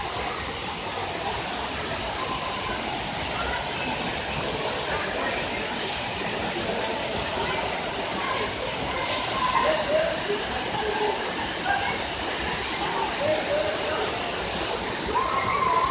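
A waterfall pours into a cold pool, a loud continuous broadband rush of water that holds steady throughout, with no talk standing out above it.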